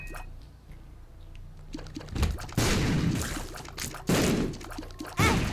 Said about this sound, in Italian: non ero così vicino a quell'esplosione